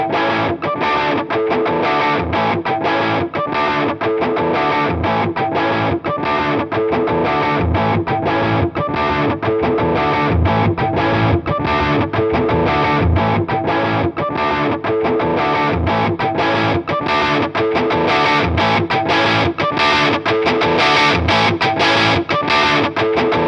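Electric guitar played through a Fender Hammertone Distortion pedal into a Fender Deluxe Reverb amp, a loud, thick, continuous distorted riff with steady chugging rhythm and bright sustained overtones, with no talking.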